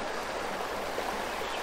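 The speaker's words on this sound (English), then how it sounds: "Today we're going to fish this creek." A wooded creek flows in a steady, even rush of water, close and continuous, with no voices.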